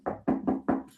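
Four firm knocks on a studio door in an even rhythm, close and fairly loud, with no talking over them.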